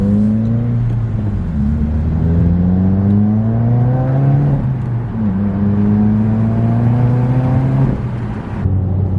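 A 2020 Subaru WRX fitted with a Tomei cat-back exhaust drives and accelerates, its loud engine drone rising in pitch through several gear pulls, heard continuously and close.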